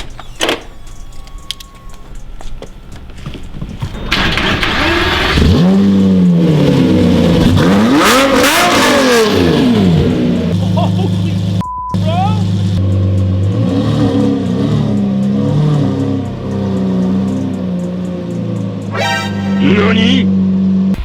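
A widebody 2006 Lamborghini Murcielago starts up and revs loudly as it pulls away, rising and falling engine sweeps dominating the middle, with people talking and exclaiming over it.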